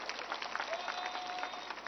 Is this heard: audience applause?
yes